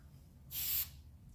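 A single short hiss of spray oil applied during CCU assembly, about a third of a second long, close and crisp against near silence.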